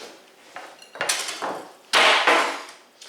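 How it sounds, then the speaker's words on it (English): Metal whisk dropped into a bowl while making pumpkin Bundt cake batter, a series of clattering knocks and rattles, then one louder clang that rings and fades. "Just drop my whisk."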